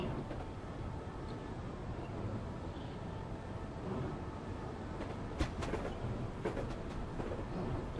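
Train in Train Simulator, on the London to Faversham route, rumbling steadily as a dense low roar that stays even throughout, with a few brief clanks and rattles.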